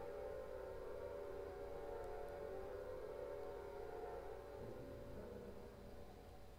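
A low, droning air-raid siren wails in the Silent Hill video game, a continuous tonal hum sitting under hissy static, fairly faint and unbroken throughout.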